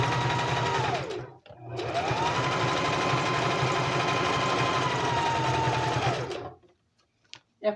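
A sewing machine stitches a child's Christmas apron in a steady close whirring run, stopping briefly for about half a second and then running again for several seconds before stopping, followed by a few small clicks.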